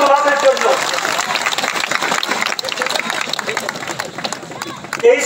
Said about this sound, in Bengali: একটা জোরে হাততালি সুভাষের জন্য